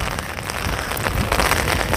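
Heavy rain patters steadily on the outside of a moving train, a dense, close hiss of drops with small irregular spikes throughout.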